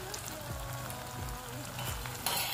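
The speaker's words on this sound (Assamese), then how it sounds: "এতিয়া তেলত দি দিম নিমখ পিঠাটো বহুত বেছি ভাজিব নালাগে" Salted rice cakes (nimokh pitha) frying in hot oil, giving a steady soft sizzle and crackle at close range, with a brief louder hiss near the end; no talking.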